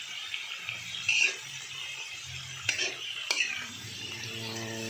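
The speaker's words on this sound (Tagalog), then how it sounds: "Haluin lang natin siya, tapos pakuluan ng mga 5 minutes." A spoon stirring a pot of field-frog adobo simmering in coconut milk, with soft scraping and a few clinks against the pot over a faint bubbling background.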